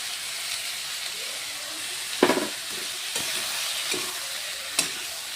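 Spices such as turmeric and chilli powder fry with vegetables in a pan, making a constant close sizzling hiss. A few scraping stirs cut through it and no one speaks.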